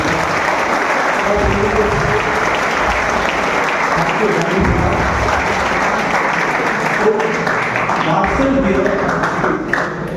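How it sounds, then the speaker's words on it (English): Audience applause at a university book release ceremony on World Maritime Day, dense and steady throughout at full volume, a crowd clapping together without letup. "you need to give a good round of applause"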